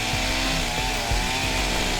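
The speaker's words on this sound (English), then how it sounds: "So they break out the chainsaw." A chainsaw roars steadily at close range, its engine pitch wavering slightly as it bites into a tree.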